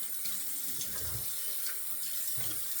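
A bathroom tap runs steadily into a sink for rinsing a razor during a wet shave, a close, continuous splashing stream with small shifts in the flow.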